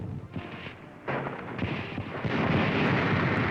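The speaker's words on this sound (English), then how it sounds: "There's the naval station at Bizerte, being pounded by American shells." American artillery shelling the Bizerte naval station in 1943, with rumbling explosions and dull booms rolling one after another into a continuous, heavy roar.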